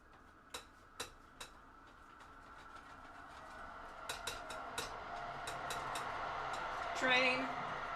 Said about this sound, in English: can you guys hear the train from where it is right now?